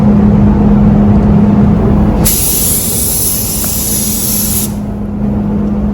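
A spray can paints the engine bay of a Honda Civic red, a loud close hiss starting partway through and held for a couple of seconds over a steady low hum, with no talking.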